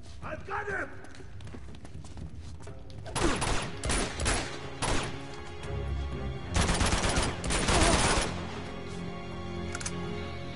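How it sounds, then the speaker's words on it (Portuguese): Uncharted 2 game gunfire crackles in several rapid bursts of close, sharp shots, with quieter thuds and movement between volleys and a voice talking at the start. "esses tiros assim tinha que matar"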